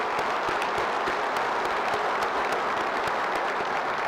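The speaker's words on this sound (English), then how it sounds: "So if you would, please give them a round of applause." Sustained applause from a symposium audience fills the room, a steady dense round of clapping with no talk over it.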